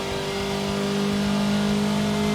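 A car accelerates out of a corner at Bathurst, its engine note holding steady and loud throughout as it pulls through the gears, with no talking.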